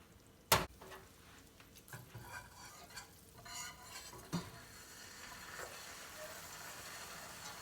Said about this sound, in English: now we are going to slowly whisk in a cup of heavy cream.